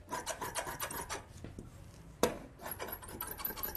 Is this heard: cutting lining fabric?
yes